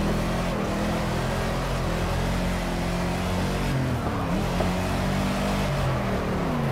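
A car engine in Project Cars gameplay drones and revs steadily, pitch rising and falling as the driver attempts drifts without a handbrake, loud and continuous with no talking.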